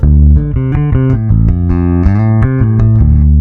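G&L bass guitar with pickups wired in series plays a short, quick line of plucked notes, thick and heavy in the low end with a strong midrange growl, loud and unaccompanied.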